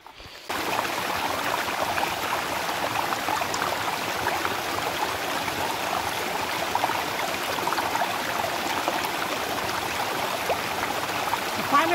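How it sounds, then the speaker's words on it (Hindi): A small natural waterfall stream spills down from the mountain in a village forest, giving a steady, continuous rush of water that holds at an even level for the whole stretch with no voices. "गाइस हमको चलते चलते ये थोड़ा सा झरना मिला है, यहाँ पे काफ़ी अच्छा है और ये नेचुरल वाटर है जो कि पहाड़ से आता है"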